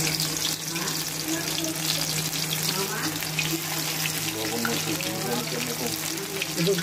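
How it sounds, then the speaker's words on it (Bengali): Steady hiss and sizzle of loitta (Bombay duck) fish frying in hot oil, a continuous bubbling crackle that stays even and fairly loud throughout, with no talk over it. "সো আমরা ফ্রাই করে নিচ্ছি।"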